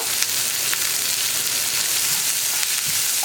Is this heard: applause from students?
no